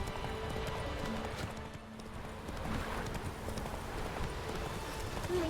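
Roach, a horse in The Witcher 3, galloping with quiet, steady hoofbeats that are soft and somewhat distant.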